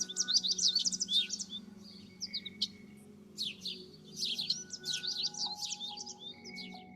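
Birdsong played back during a lesson on identifying birds by ear, with rapid high chirps and twittering phrases in repeated bursts and brief pauses, over a faint low hum.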